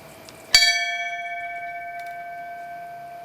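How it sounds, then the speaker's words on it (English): A single ceremonial bell, rung in a memorial ceremony for military personnel and firefighters, is struck once. It gives a sharp, clear clang followed by a long, ringing decay that hangs on steadily. "Let us now toll the bell once in dedication to all the military personnel, whose mission it is to respond in times of need,"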